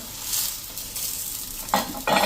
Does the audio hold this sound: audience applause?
no